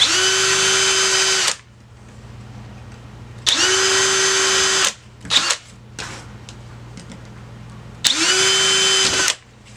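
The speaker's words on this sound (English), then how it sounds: "Just make small pilot holes." A power drill whines in three short bursts of about a second and a half each, drilling small rivet pilot holes in a metal aircraft bracket, separated by pauses with faint clicks and handling noise.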